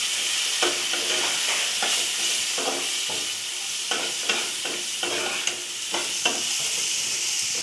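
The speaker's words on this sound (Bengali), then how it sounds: "মশলাগুলো এখন ভালো করে একটু কষিয়ে নেব।" Ground cumin and salt fry in a pan for a fish-style curry. There is a continuous loud sizzle, broken by a regular series of scraping stirs across the pan.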